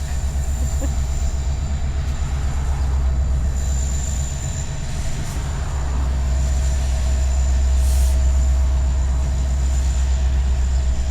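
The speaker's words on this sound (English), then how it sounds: "More trains." A train rumbles past nearby for a long stretch, with a steady low roar, rattling wheels and a faint high metallic whine.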